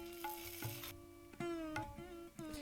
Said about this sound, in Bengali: এগুলো হালকা করে একটু ভেজে নিতে হবে